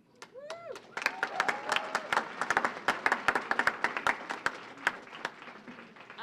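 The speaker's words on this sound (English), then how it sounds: "an applause for the courageous workers" A small crowd at a union rally outside SEIU Local 615 offices bursts into applause, steady clapping with a few cheers and voices mixed in, close by.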